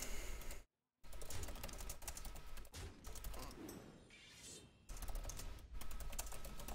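Keys clatter on a computer keyboard as a message is typed during a Hearthstone session, a quiet run of rapid clicks that briefly stops and then resumes, with no one speaking.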